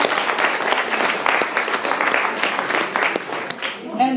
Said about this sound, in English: Can we have another round of applause for that?